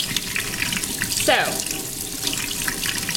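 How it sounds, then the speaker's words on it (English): Warm water runs from a tap over paint brushes into a sink, a steady close splashing hiss with a brief rising gurgle, while a voice briefly speaks. "the warm water over the brushes here"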